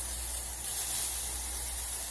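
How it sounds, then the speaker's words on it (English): Coconut oil cooking spray hisses from the can in one short, steady burst onto a cooking surface, fairly quiet and close. "So I'm going to put a little bit of cooking spray on this."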